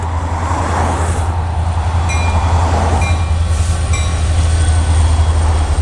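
A long freight train of new double-stack container wagons rolls past at close range, a steady loud rumble with faint wheel squeal and rhythmic clatter throughout.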